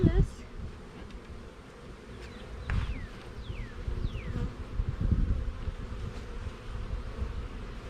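Honey bees buzz around a beehive during hive work with brood frames, a steady close hum with brief passing whines of individual bees and some low handling noise.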